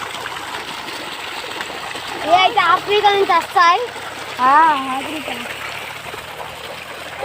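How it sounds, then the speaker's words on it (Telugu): Cool water pours from a pump in a steady splashing trickle, continuing under a voice speaking briefly. "ఇది చూడండి, పంపు నీళ్ళు అయితే పడుతున్నాం."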